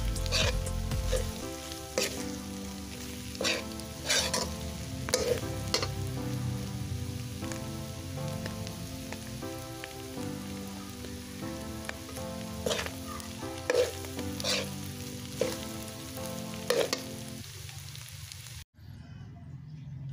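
Kadingga, a Bicol goat meat dish, sizzles steadily as it toasts in a pan, a dense, even crackle punctuated by sharp scraping clicks of a utensil, ending abruptly.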